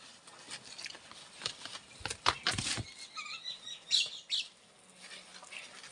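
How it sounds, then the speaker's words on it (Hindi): Several kinds of small birds flutter and chirp around a village courtyard in the Uttarakhand hills, with repeated bursts of wing flaps and scattered calls close by, busiest in the middle. "अब इतनी किस्म की चिड़िया है"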